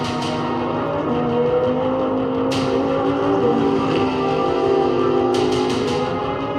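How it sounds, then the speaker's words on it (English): A Lamborghini Huracan Evo engine roars steadily and loudly, a sustained full-bodied drone with rising and falling revs and a few sharp crackles, with no voices. "Lamborghini's mythology mostly feeds on the full-bodied roar coming from the engine bay"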